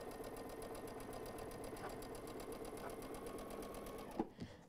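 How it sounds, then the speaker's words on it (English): A Baby Lock Aria sewing machine stitching pieces of quilt fabric runs in a fast steady rhythm for several seconds, then stops with a couple of clicks. "I'm sewing on the new Aria"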